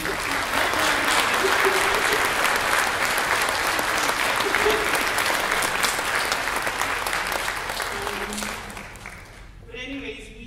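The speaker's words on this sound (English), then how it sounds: "I really would like you to help me thank her with a big applause." Sustained audience applause fills a lecture-hall gathering, steady and loud for most of the span, then tapering off near the end as faint talk and a few scattered claps remain.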